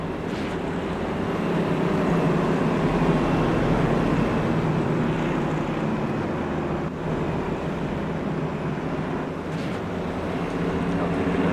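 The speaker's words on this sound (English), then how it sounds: "Tell you what, Bobby Boy, these Arca cars actually sound pretty good" ARCA race car engines roar steadily at a distance at Iowa, a continuous rumbling drone with slight rises and falls as cars pass.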